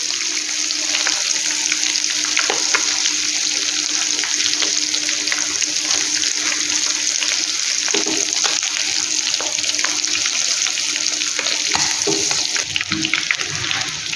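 Chicken browns in a pan over high flame for chicken mandi, giving a loud, dense, continuous sizzle with crackling pops that holds steady throughout.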